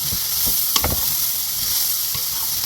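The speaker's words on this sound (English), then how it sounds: "I'm going to put my cabbage a little bit at a time." Cabbage goes a little at a time into a hot pan turned down to medium, giving a steady close sizzle with stirring scrapes throughout and no voices.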